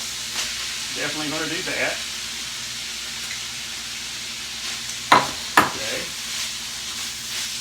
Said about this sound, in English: I'm going to turn the eye down. I'm going to add my cauliflower to it.